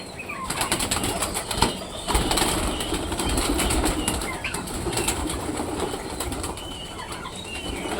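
Pigeons' wings flap in loud, rapid bursts close by. A steady rustling flutter continues throughout, with a few sharper beats.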